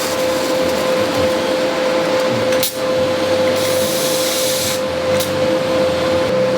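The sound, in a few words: welding joints of steel pannier rack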